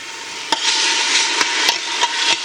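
Garlic sizzling in oil in a pan for stuffed eggplant: a loud, continuous close frying hiss punctuated by several sharp clicks of a utensil stirring against the pan.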